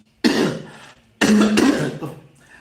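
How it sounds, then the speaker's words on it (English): Two loud, rough coughs close to the mic, a brief one followed by a longer, harsher throat-clearing cough after a short pause. "I'm coughing today."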